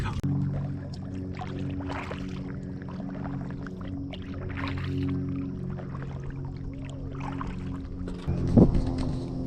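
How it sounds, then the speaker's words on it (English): A kayak is paddled on the lower Wekiva River from Katie's Landing, with soft water swishes and dribbles over a low steady background, then a brief louder splash near the end. "Today we are kayaking from Katie's Landing in the lower Wekiva River"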